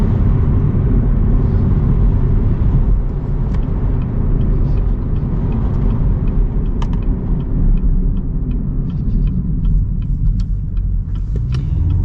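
A Chevy Camaro ZL1 1LE driving through the city, its engine a loud, steady low rumble throughout with small shifts in tone that suggest downshifts, alone with no talk.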